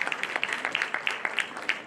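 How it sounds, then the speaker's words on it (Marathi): Audience applause at an LIC policyholders' family get-together in Narayangaon, a dense patter of many hands clapping steadily for a couple of seconds at moderate distance. "जोरदार टाळ्या वाजवा."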